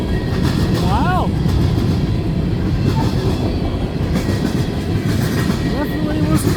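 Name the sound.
CN freight train locomotive passing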